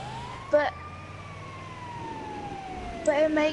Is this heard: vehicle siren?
yes